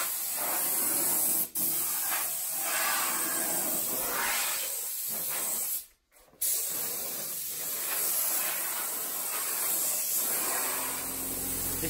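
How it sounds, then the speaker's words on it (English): Spray gun applying two-pack waterbased undercoat paint to metal in a workshop, a loud continuous hiss with a short break near the start and a brief pause midway, no talk. "We're doing some spraying today of the metal."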